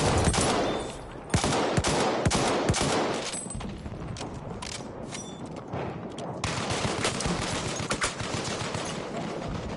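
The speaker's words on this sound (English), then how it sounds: "Look out! Machine gun!" Machine gun fire in Battlefield 1, a continuous rattling barrage of close, loud rapid shots with distant gunfire layered in, running without pause and barely any talk.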